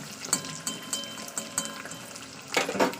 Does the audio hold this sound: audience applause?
no